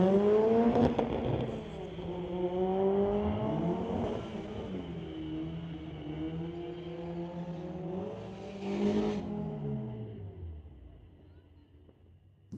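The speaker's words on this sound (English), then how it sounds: "Honda Civic in the Lordco lane going against Steven in the 85 Porsche." A Honda Civic and a 1985 Porsche launch down a drag strip, engines roaring through rising and falling gear changes that fade into the distance as the cars pull away.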